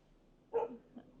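A dog gives one short, faint bark, with a softer yelp just after, heard at a distance against a quiet room.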